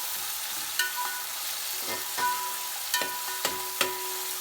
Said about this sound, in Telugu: ఇప్పుడు సన్నగా తరిగిన ఆనియన్స్ కూడా వేసేసి ఈ విధంగా మంచిగా కలుపుకుందాము.